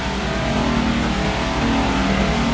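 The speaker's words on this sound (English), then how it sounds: "Here is a screw feeder going to the dewatering machine and the pipe drying system." A PP, PE and PET plastic crushing, washing and recycling line runs with a dense, steady mechanical drone and hum from its screw feeder, dewatering machine and pipe drying system, continuous with no pauses.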